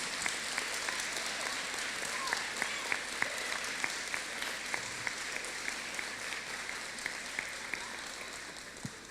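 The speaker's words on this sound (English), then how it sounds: "let's give them all a round of applause" An audience applauds school teachers and staff of William Rainey Harper at a ribbon-cutting ceremony, a steady wash of many hands clapping that holds for several seconds with a few sharper individual claps standing out.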